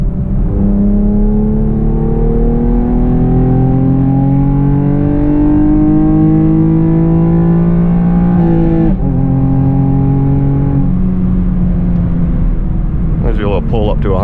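A Camaro RS V6 1LE engine pulls hard under acceleration on an uphill stretch, its tone rising steadily through the revs before a quick upshift break, then climbing again, loud and close from inside the car.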